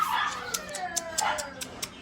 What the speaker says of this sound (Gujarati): કૂતરાનો જેટલો અવાજ આવે ને આપણો અવાજ જ નહીં આવે